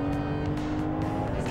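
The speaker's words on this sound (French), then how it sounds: "Bruit du moteur, c'est exceptionnel. 8000 tours." A BMW Z4 M screams at high rpm near 8000 revs, a loud, sustained, tight engine wail with rapid pulses and no talk.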